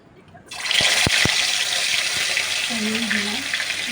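Fish slides into hot frying oil for a fish curry, and after a brief quiet start a loud, steady sizzle erupts and holds, broken by a few sharp pops and a faint tonal hum underneath.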